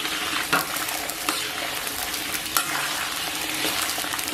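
Fresh chili sauce stir-fried with scallion, ginger and Pixian doubanjiang in a wok, a continuous close sizzle marked by a few sharp spatula scrapes against the pan, no speech.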